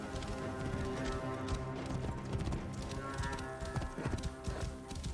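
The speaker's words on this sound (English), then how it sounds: "Must be Mered's horse." Horse hooves clip-clopping in Assassin's Creed Origins, a steady trotting rhythm of hoofbeats over constant game ambience, with no talk.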